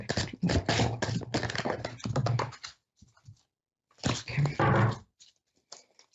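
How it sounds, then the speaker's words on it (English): Tarot cards are shuffled by hand in quick riffling and tapping bursts, close and crisp. Two spells of shuffling are separated by a short pause, with light taps in between. "So I'm just shuffling the cards"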